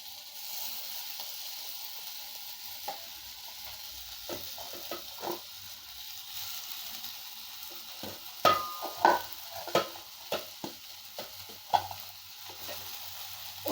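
Potato pieces fry in a pan with a steady soft sizzle, punctuated by scraping stirs and occasional louder clinks of the spatula, close and moderately quiet, with no talking.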